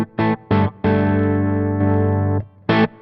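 Electric guitar run through a Studio Plex MK II pedal on its bowl setting with extra gain, playing a few short distorted stabs, then a long sustained chord, then more stabs, loud and alone.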